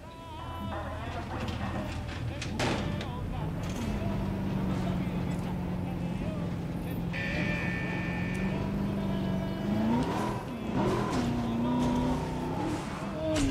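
A car drives in Jurassic World Evolution, a steady engine hum that rises and dips in pitch as it moves, heard under lively talk.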